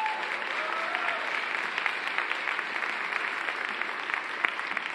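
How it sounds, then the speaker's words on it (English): An audience applauds steadily throughout, dense even clapping at moderate distance with no pauses and no voices over it. "I'm so happy to see many men applauding"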